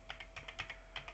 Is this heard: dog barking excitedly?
no